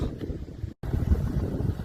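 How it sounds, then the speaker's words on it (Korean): Strong wind roars outdoors in the countryside near a spreading wildfire in Uiseong, Korea, a steady low buffeting rush against the microphone with a brief dropout. "바람이 불고 있습니다."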